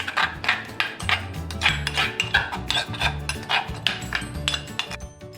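Sambal sauce for chicken rice being mixed in a bowl after hot oil and lime juice go in, a quick irregular run of clinks and scrapes from a utensil striking the bowl, close and bright with nothing else heard.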